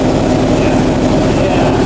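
A straight-piped Yamaha R1 motorcycle runs loud and close, a dense, continuous low engine roar held steady throughout.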